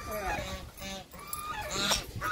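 Geese honk loudly and repeatedly at a farm pen, several overlapping calls close by, with a voice faintly present underneath.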